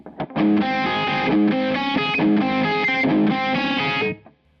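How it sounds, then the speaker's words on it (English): An electric guitar with a distortion effect plays a repeating chord riff in a steady picked pattern, loud and alone, stopping abruptly near the end. "Then the distortion comes on and you play this."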